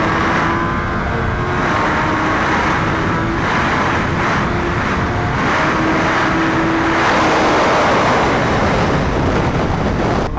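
A Suzuki Hayabusa motorcycle pulls hard in second gear, its engine note climbing steadily beneath a loud, constant roar of wind rushing past the rider, continuous for ten seconds with no speech.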